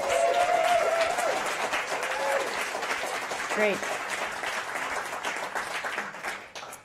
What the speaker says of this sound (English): Please join me in a huge round of applause for all 11 startups.